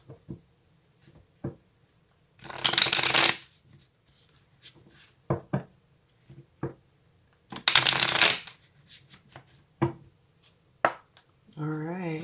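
Tarot cards shuffled in two loud riffling bursts, with a few light taps and card handling between them, close and alone with no talk.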